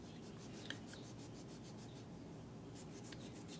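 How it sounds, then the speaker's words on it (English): Soft, steady rubbing strokes from sanding down the bit of an estate tobacco pipe's stem, faint and close, with no talk. "sanding it down until I get further deeper into the thickness of the bit"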